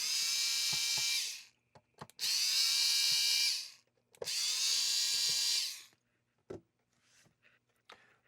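Electric screwdriver spinning out four Phillips screws from an NES game cartridge, three loud sustained whirring bursts of about a second and a half each, separated by small clicks and handling taps, then quiet fiddling with the plastic shell.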